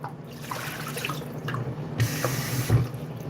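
Water from a kitchen tap runs and splashes into a cooking pot, a steady soft stream with a few louder drips and gurgles, alone without talk.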